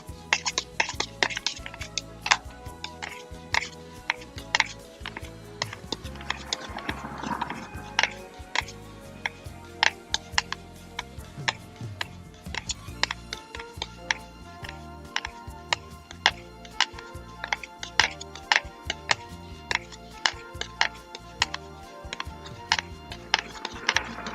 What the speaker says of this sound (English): I gave it about 20 stirs. Okay, just stirring it, not vigorously